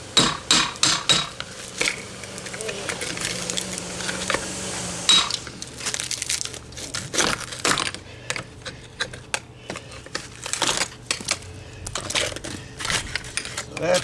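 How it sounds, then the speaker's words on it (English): A hammer strikes and breaks up old cinder blocks during masonry patch work, giving sharp repeated knocks and crumbling, scraping debris at close range, with someone talking intermittently between the blows. "I always use a bigger hammer."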